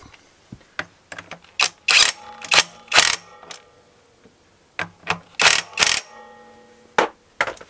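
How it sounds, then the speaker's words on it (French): Tool tightening the clutch nut on a motorcycle to torque, a series of sharp metallic ratcheting clicks and bursts in irregular clusters, loud and close with no talking. "on peut remettre le nut. Qu'il faut bien évidemment serrer au couple."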